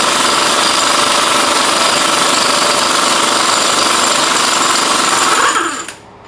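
Loud, close power tool rattling continuously on the axle nut of a 1991-2000 Chevy GMC K1500, hammering steadily for several seconds before stopping abruptly, with no talking.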